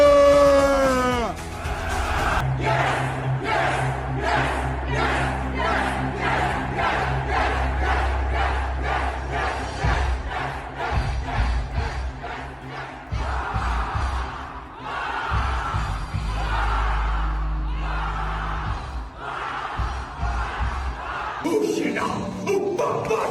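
Large crowd at a coaching event shouting loudly in rhythmic, chant-like bursts, sustained roaring voices filling the space nearly throughout, with a brief dip near the end before rising again.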